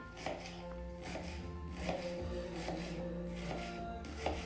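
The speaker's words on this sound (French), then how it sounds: "Alors tout ce qu'on va faire, c'est vraiment couper notre oignon" A knife chops an onion on a board for a white bean soup, giving a steady run of close, sharp cuts over a low continuous hum, with a few louder strokes scattered through.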